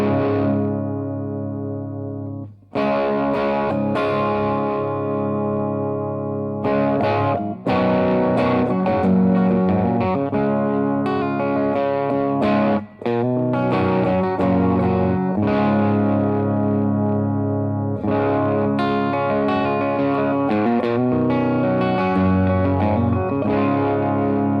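An electric guitar plays through a Mad Professor Mighty Red Distortion pedal with its distortion knob turned low, giving a mildly overdriven, sustained tone. Chords and riffs ring steadily with only brief pauses between phrases.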